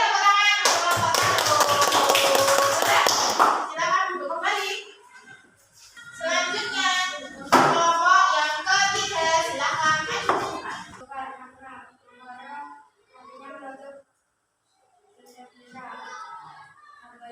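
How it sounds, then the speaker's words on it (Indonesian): A class of students in an Indonesian Islamic religious education lesson bursts into loud, close applause for a few seconds, then children's voices and a teacher's talking follow. "Ya, boleh tepuk tangan."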